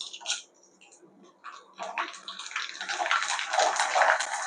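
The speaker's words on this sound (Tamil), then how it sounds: "வத்தல் பொரிச்சு காட்டுற பாருங்க" Rice vathal crisps deep-frying in hot oil: a soft crackle swells after a quiet start into a dense, continuous bubbling sizzle that grows louder toward the end, with no talking.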